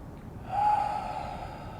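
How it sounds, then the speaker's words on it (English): One deep breath drawn in, a soft, close airy inhale lasting about a second. "take a deep breath"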